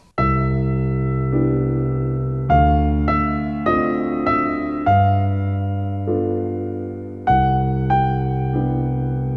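Slow stride piano chords, struck one after another in a steady rhythm, each ringing out and fading before the next, bass and harmony moving together.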